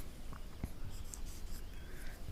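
Pen or chalk writing by hand during an English grammar lesson, a few soft, scratchy strokes, faint and brief, with a quiet room hum underneath.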